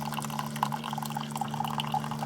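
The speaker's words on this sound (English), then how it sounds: "I brew coffee in a K-cup Keurig" A Keurig K-cup coffee maker brews, with a low steady pump hum under faint trickling and dripping of liquid into a cup, close and quiet.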